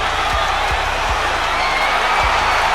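Loud, steady roar of a boxing crowd cheering from all sides, unbroken for the whole stretch, with several soft low thuds underneath.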